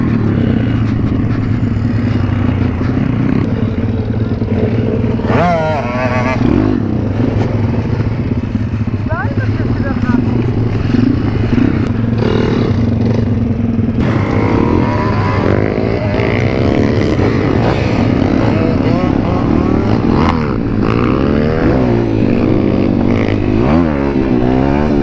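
A Suzuki RM-Z 450 dirt bike engine drones loud and steady throughout, with the revs shifting slightly, while people talk over it.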